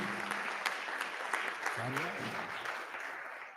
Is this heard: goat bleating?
no